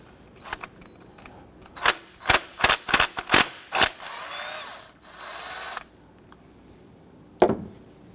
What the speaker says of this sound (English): You use a 10mm socket, loosen that bolt.